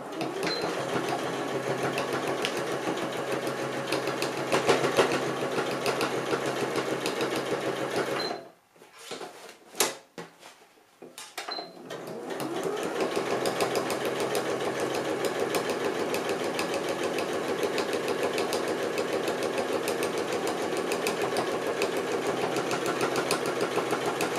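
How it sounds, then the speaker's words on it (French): A sewing machine runs a straight stitch along the edge of a fabric coin purse, a steady rapid mechanical whir that halts for a few seconds with a couple of clunks before running on evenly again. "on va aller coudre de nouveau au bord. Pareil, rien de sorcier. Couture au point droit."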